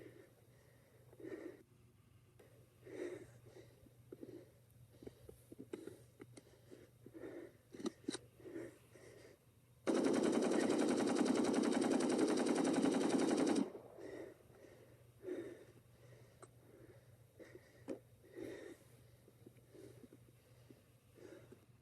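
An AK-47 rifle overheating and cooking off fires a loud continuous burst of roughly four seconds outdoors, preceded and followed by quieter irregular clicks and handling sounds.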